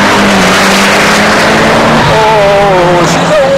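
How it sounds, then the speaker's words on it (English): A turbocharged Mitsubishi Lancer Evo rally car engine roars loudly from inside the car, holding a steady drone, then climbs in pitch as it accelerates through the revs. "Power delivery in this thing is wonderful, particularly when the turbo kicks into action."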